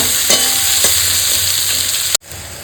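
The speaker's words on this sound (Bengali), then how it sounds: "পেঁয়াজ থেকে ভালো করে একটু কষাবো লালচে লালচে করে ভাজবো" Onions fry in a pan until reddish for a fish curry, a loud, continuous close-up sizzle with a couple of stirring knocks before it cuts off abruptly.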